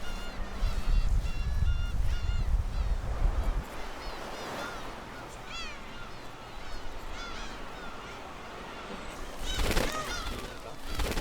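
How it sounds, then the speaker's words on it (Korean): Black-tailed gulls calling while attacking near their nests on Dokdo, with harsh honking cries and wavering mewing calls overlapping through a low rumbling background, loudest at the start and again near the end. "그런데 갑자기 괭이 갈매기들의 공격이 시작됐다"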